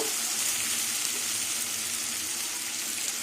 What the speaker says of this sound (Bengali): অল্প একটু জল দিলাম লঙ্কার গুঁড়োটা পুড়ে না যায়